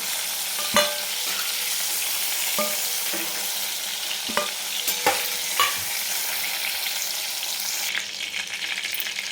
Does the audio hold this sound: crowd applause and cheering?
no